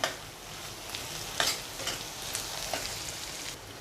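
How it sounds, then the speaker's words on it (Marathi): Turmeric sautéed in hot oil for okra bhaji gives a steady soft sizzle with occasional spoon scrapes and stirring clicks, close and quiet, with no talk. "एक चमचा हळद घालून घेते आणि व्यवस्थित परतून घेऊया"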